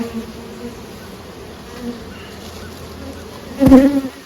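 Honey bees hum around hive frames while a small swarm is boosted with nurse bees, a steady close drone that swells louder near the end as bees pass by the microphone.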